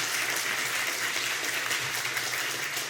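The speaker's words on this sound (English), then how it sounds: "So a round of applause, please." An audience applauds the candidates at a city club candidates forum, a steady dense wash of clapping that holds at an even level throughout with no talk over it.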